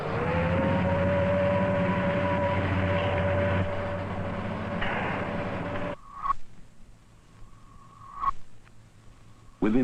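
Rocket liftoff of the first American manned spaceflight: a loud, dense roar with steady tones runs for about six seconds, then drops away, leaving quieter background noise and a few short, sharp beeps.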